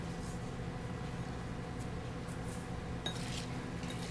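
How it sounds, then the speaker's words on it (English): Beets tossed into baby arugula in a bowl, giving faint soft clinks and light scrapes of a utensil against the dish, scattered irregularly, with a sharper tap near the end, over a quiet steady room hum. "I'm going to mix the beets in with those"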